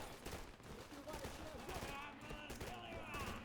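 A PPSh-41 submachine gun fires in the video game Easy Red 2, a dense, continuous rapid-fire rattle mixed with battle noise and faint voices, loud and sustained throughout.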